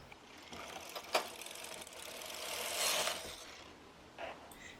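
A knitting machine carriage slides across its needle bed with a soft, close whirring rasp that swells in the middle, framed by a few light mechanical clicks.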